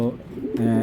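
Two short, deep pigeon coos come one after the other with a tiny pause between, near and fairly loud.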